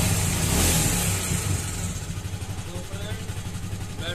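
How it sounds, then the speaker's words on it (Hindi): A 220cc motorcycle, its battery newly changed, fires up and revs loudly at first, then settles into a steady, throbbing idle close by, with someone talking over it. "अब हम स्टार्ट करके देखते हैं कि गाड़ी स्टार्ट हो चुकी है"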